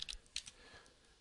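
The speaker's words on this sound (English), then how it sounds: "I'm typing the millimeter symbol" Soft clicks from a computer keyboard as a few quick keystrokes come in a short burst, faint and close, then trail off into quiet.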